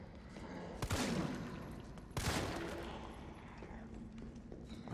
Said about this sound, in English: I'm like firing off here like I've got the ammo to spare